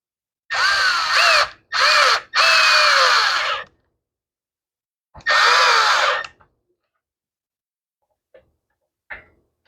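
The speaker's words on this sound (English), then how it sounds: "I use a screw gun to do this" Cordless screw gun whirring in short bursts during repair of a Ryobi small engine that won't start after sitting for years: three close, loud revs, a pause, then a fourth longer run, with faint clicks afterward.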